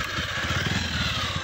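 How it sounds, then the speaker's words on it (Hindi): A Bajaj Pulsar 150 motorcycle engine runs close by with a steady, throbbing low idle that holds evenly throughout, with no one talking. "इसकी यह मोटरसाइकिल है पल्सर 150। कर ले भाई स्टार्ट मोटरसाइकिल।"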